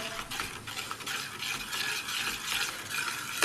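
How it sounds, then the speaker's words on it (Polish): Semolina being stirred in a pot as it heats toward a boil, a continuous close scraping swish of a spoon going round in rhythmic strokes with faint hiss beneath, no voices. "Mieszam i doprowadzam do zagotowania, czekając aż kasza zgęstnieje."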